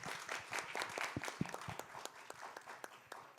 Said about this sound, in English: Let's give another warm round of applause to our two moderator and speakers